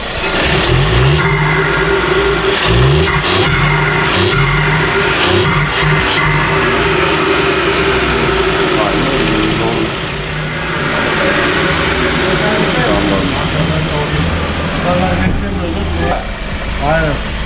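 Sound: Audi A3 engine revving with aftermarket air filter

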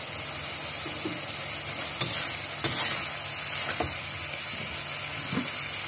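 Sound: stir-frying shrimp with onion in a pan

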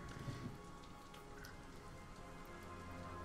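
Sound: rain in the video game Batman: Arkham Asylum

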